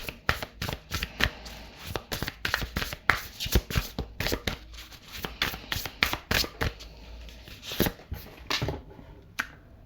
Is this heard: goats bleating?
no